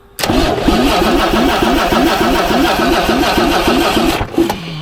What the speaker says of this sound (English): So we'll just crank it here a little bit and it'll work all the air out of itself.